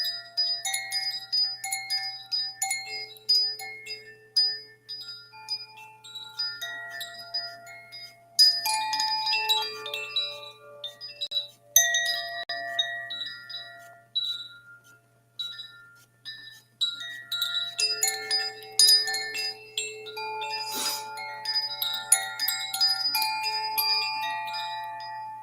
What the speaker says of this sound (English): Let the chimes sing to you